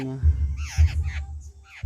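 Nestling laughingthrushes being hand-reared call in loud, harsh, repeated bursts right up close, with a person talking softly among the calls.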